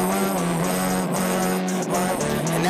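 A dense, saturated wall of music comes through a distortion pedal, with a harsh buzzing tone steady throughout the short excerpt.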